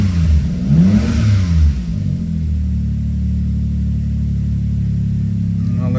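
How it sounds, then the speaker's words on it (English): A 1998 Suzuki Jimny with a K6A turbo engine revs once, rising and falling over the first two seconds. It then settles into a steady raised idle with a loud, close rumble and whir, and no talking. "I'm back inside, gonna give it a little gas, and I'll let it idle at certain RPM"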